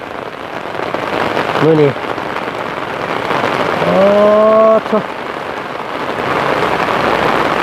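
Heavy rain pours down in a dense, continuous hiss, with a voice speaking briefly over the downpour.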